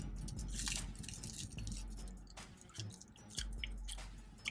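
Biting and chewing into soft bread while wearing new adult braces, close and quiet, with several soft crunchy, squishy mouth sounds and small clicks spread over a few seconds, no talking.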